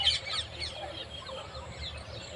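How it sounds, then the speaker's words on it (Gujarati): A pet peacock calls in a garden where peahens are also displaying: a few faint, high bird cries at the start, then quieter fowl-like murmurs over a soft background hum. "જો ભાઈ આ મોર કેવો મસ્તના કિલકિલાટ છે"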